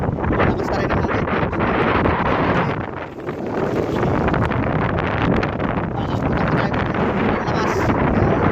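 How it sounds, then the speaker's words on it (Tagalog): Strong sea wind roars and buffets the microphone on a small fishing boat out on choppy water, a loud, continuous rumble that dips briefly before surging again, with no clear talk. "Malakas na rin ang hangin."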